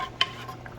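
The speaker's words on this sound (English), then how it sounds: "Try to stir it." A spoon scrapes once through meatloaf in tomato gravy in a pan, a brief close clink and scrape over a faint simmering sizzle.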